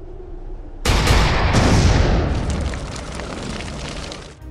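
A Matryoshka walker model firing a shot in a tabletop wargame battle, heard as a sudden loud boom that bursts in and then rumbles and crackles as it slowly fades.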